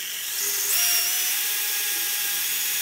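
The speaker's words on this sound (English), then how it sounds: "I stepped it up to a 7/32 drill bit. I'm going to make each of these holes larger." A power drill with a 7/32 bit bores into the metal of a Mercruiser Alpha outdrive lower unit, giving a steady, close, high-pitched whine that rises slightly as it bites and holds without talk.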